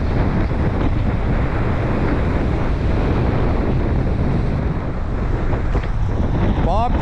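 Steady wash of ocean water and waves in Arecibo, Puerto Rico, under strong wind buffeting, continuous and fairly loud throughout with no voices.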